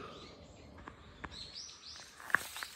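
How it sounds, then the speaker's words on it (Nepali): Faint bird chirps and short calls ring out in a Japanese jungle along a hiking trail, scattered irregularly over a quiet background with a few soft rustles. "सुन्नुहोस् त यो चराको चिरबिरहरू सङ्गीतहरू"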